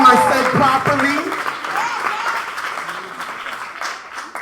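An audience at the Bronx Youth Poetry Slam bursts into loud applause and cheering that gradually tapers off over a few seconds, with a voice over the clapping near the start.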